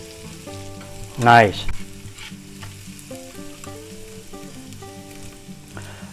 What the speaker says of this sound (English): Nothing like the smell of garlic cooking in a pan.